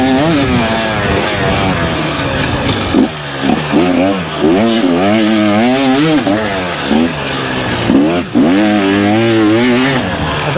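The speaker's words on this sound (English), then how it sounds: "It doesn't like to be revved like the YZ does." A KTM dirt bike engine revs hard and repeatedly, climbing and falling in pitch through several loud, close throttle bursts over a steady raw mechanical drone.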